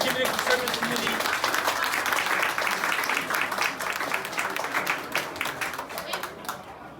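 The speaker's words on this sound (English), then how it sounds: "Can we have a round of applause for the years that she's given to serving this community?" Audience applause for Councillor Sue McFadden of Ward 10, Mississauga, a steady crowd clapping that holds for several seconds and then thins out.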